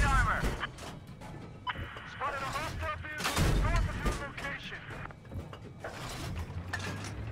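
Rapid gunfire and explosive bursts from the Battlefield video game, layered with in-game voices and chatter, loud and dense throughout with repeated impacts.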